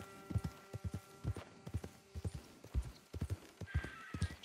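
A horse gallops in the video game Red Dead Redemption 2, its hooves drumming in steady rhythmic clusters of thuds close by, alongside a faint background hum and a brief higher rushing sound near the end.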